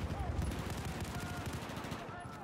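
Rapid gunfire in Battlefield 4 crackles as a dense burst of repeated loud shots close by, steady throughout, with faint talk underneath.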